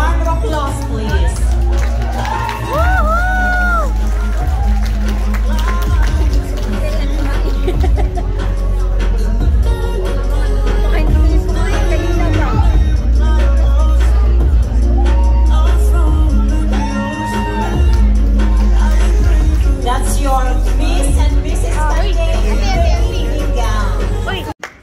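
A pageant crowd at a coronation night cheers, whoops and shouts over continuous loud hubbub and music, with sustained, excited reaction throughout.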